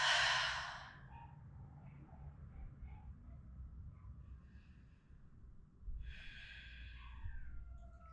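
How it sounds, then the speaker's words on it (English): A person exhales through an open mouth during a yoga and weights session, one breathy release at the start and another after a pause, soft and close in a quiet room. "Open mouth, exhale."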